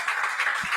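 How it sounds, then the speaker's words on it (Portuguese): A church congregation applauds, producing a soft, steady wash of many hands clapping that sounds somewhat distant and even throughout. "Dê um aplauso a Jesus"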